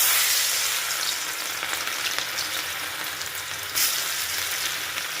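Chickpeas deep-frying in hot oil give off a steady, close sizzle with bright crackling spatter throughout, a brief louder flare near the end, and no voices.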